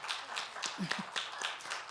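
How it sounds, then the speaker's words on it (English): A small audience at a Kwanzaa event in a museum claps briefly, the scattered hand claps fairly quiet and uneven over a couple of seconds. "Can we give Barbara K. Hughes Smith a round of applause?"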